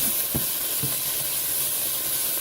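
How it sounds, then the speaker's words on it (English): Beef stew meat and onions fry on high heat in a pan, a loud, dense, steady hiss of browning with a few faint crackles and pops, heard alone at close range. "I just fry this all up on pretty high heat, so I want it to brown and get a nice kind of crispy crust"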